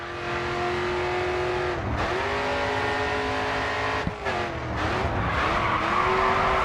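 A race car in Grid 2 brakes hard and skids, its tires squealing in long sliding tones over the steady engine note, with gear changes and a sharp knock near the middle, close and loud.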